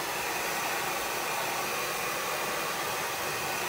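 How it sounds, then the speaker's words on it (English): A hairdryer blows steadily to dry paint on a craft gnome, a constant close whooshing hiss with no breaks and no talking. "I'm going to hit it with my hairdryer."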